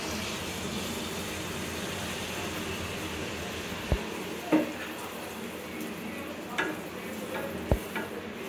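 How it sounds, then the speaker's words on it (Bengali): Semolina oil pitha frying in a pan of oil, a soft steady sizzle with several sharp knocks and clicks from utensils, fairly quiet and close. "আমার সবগুলো পিঠা ভাজা হয়ে গেছে।"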